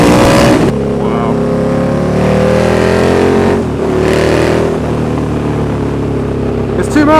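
A KTM 1290 Super Duke R motorcycle with a loud aftermarket exhaust roars and revs close by, holding a strong throaty drone with rising pitch sweeps and brief throttle blips; a person talks excitedly over the engine.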